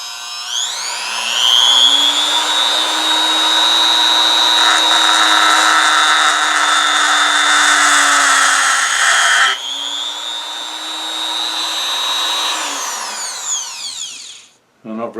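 Hilda 220V 400W rotary grinder with a burr biting into scrap aluminum, a loud high-pitched whine that rises as it spins up, dips briefly mid-cut, resumes, then winds down and stops near the end.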